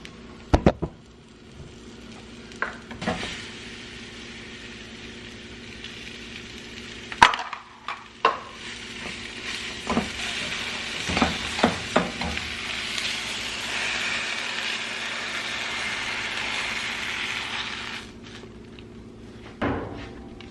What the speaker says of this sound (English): So I'm gonna dump that on top as the eggs start to cook.